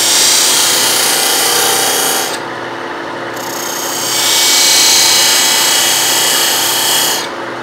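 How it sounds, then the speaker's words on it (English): A narrow parting tool cuts a groove into a spinning piece of wood on a lathe for a two-piece wooden yo-yo: loud, close, continuous rasping and scraping, with a brief easing and a softer stretch as the cut pauses. "I'm going to take this narrow parting tool and start to establish"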